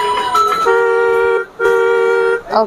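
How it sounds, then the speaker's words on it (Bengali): A child's battery-powered ride-on toy car plays its electronic horn, loud, close, sustained tones in two long blasts with short breaks between them. "এটার মধ্যে বিভিন্ন রকম মিউজিক আছে, হর্ন আছে"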